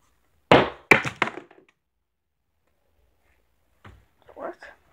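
An old iPod thrown against a wall gives a sharp hard impact followed by a couple of quick bouncing clatters, then silence before a brief voice speaks.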